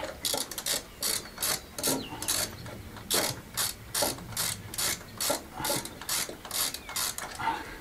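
A socket ratchet clicks in quick repeated bursts while loosening the air filter fastener on a faulty generator, a close, crisp, steady run of strokes with no talk.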